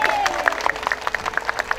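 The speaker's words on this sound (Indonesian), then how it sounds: "semua tepuk tangan" Scattered clapping from an audience at a public gathering in Cirebon, Indonesia, with sharp, irregular claps under a steady murmur of crowd and voices.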